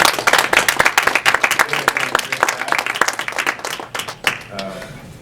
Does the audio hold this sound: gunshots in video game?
no